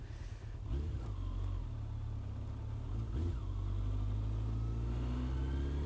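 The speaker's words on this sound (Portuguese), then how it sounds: "Nossa, que delícia que é andar de moto" Suzuki RF900R motorcycle engine droning steadily while riding, a low, even rumble with a couple of brief swells as the throttle opens, heard close with wind noise and no talk.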